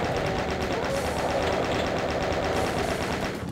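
In Doom 2, a Chaingunner fires a continuous dense rattle of rapid shots during monster infighting, loud and steady throughout before easing slightly at the end.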